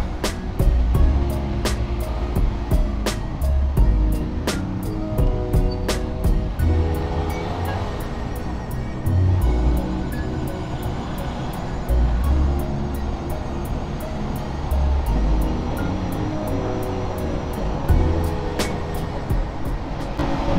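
Large trucks, including a fast-moving dump truck, roar past on a road during a ride, heard as a steady, loud traffic rumble with repeated rattling clicks throughout; no talking.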